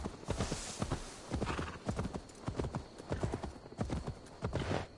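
Hooves clip-clop in a rapid galloping rhythm that rises and falls, with a brief whinny-like sound and no speech over it; a horse galloping in Assassin's Creed Valhalla.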